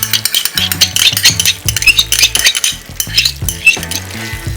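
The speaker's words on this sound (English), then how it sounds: "So now I'm going to give this a stir" A spoon clinks and scrapes around a pan while stirring pepper steak with onion, garlic and a homemade sauce, giving repeated metallic taps and scrapes over a soft sizzle, with no talking.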